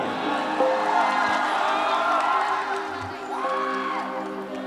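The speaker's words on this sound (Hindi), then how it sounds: "एक जोरदार ताली हो जाए भैया" Crowd cheering and whooping at a Bhojpuri stage show, continuous and loud with shouts over amplified music and a voice.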